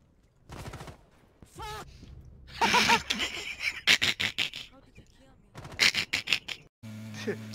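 Bursts of rapid video game gunfire crackle in quick volleys between excited voices, with several short loud clusters of shots and people talking over them.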